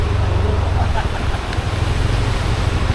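Sea waves at a shore near a steel bridge: a steady rushing surf with heavy wind buffeting the microphone, loud and close, with brief voices underneath.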